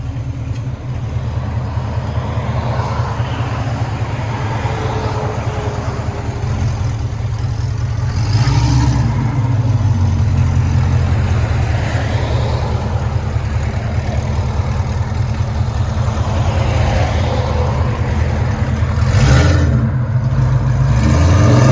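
An E85-tuned Corvette with headers and straight pipes sends out a loud, close, continuous exhaust rumble, swelling with a couple of brief rev surges.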